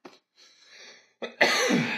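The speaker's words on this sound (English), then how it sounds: "And cough." A person coughs once, loud and close, a sharp burst near the end after a quieter throat sound and a short murmured pause, with a brief voice at the start.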